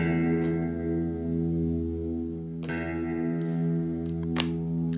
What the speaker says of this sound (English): This is the exact amount of reverb that you would hear in the Yangtze caves.